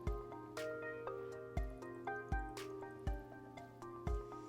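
Water drips from a paintbrush into wet pink watercolor paint, a series of distinct close plinks and soft splats at irregular intervals over steady music.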